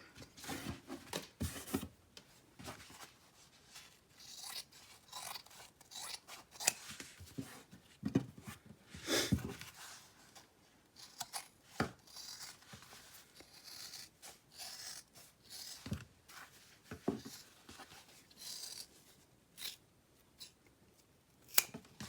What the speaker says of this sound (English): I'm going to go around and I'm going to trim around my whole bag